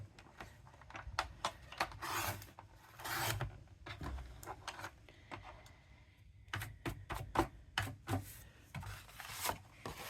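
A paper trimmer slices card for a gatefold card: quiet, close rasping slides repeat in short bursts, with a brief pause midway before several more quick strokes.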